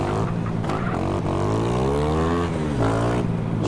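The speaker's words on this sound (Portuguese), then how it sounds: "Tirar esse escapamento também que já deu que tinha que dar. Chega de barulho. Barulho alto, né?" A loud motorcycle exhaust, in a GTA San Andreas-style game, rumbles steadily up close with rising and falling revs across the whole stretch.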